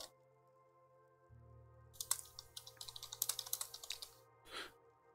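Rapid keystrokes on a computer keyboard in a burst of clicky typing lasting a few seconds, close and fairly loud over a low background hum from a racing game.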